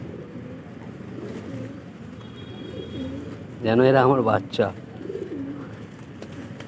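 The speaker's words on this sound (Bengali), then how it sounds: "দেখেছো সিরাজি পায়রাটা?" Shirazi pigeons feeding together in a flock, with a soft, continuous low cooing murmur running beneath a person talking near them.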